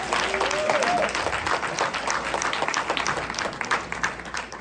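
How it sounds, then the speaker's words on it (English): Audience applause for an award recipient at an International Women's Day awards event, steady dense clapping from a crowd throughout, fairly loud and continuous with no talk over it. "Please give her a round of applause for that before she comes up"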